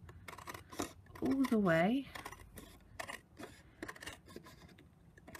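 Scissors cut through paper for a folded flap handbag gift card, giving a run of crisp, close snips and scrapes, while a voice speaks briefly over them.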